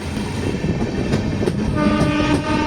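The Kolkata–Sairang Express runs at speed out of Murshidabad Junction, a loud steady rumble of wheels and carriages with a sustained horn tone drifting through.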